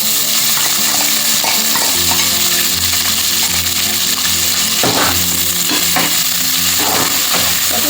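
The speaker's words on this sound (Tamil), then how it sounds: "இப்போ வந்து நம்ம வந்து பொடியாக கட் பண்ண வெங்காயத்தை போட்டுக்கிடுவோம்" Finely chopped onion fries and sizzles in a pan for green pulao, with a steady loud crackle and repeated scraping stirs and clinks of a spoon against the pan throughout.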